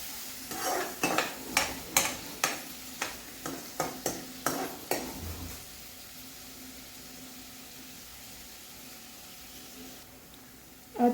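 A spoon scrapes and taps rhythmically against a pan about a dozen times while onions cook for lasooni palak, then the stirring stops and a soft, low sizzle continues alone near the mic.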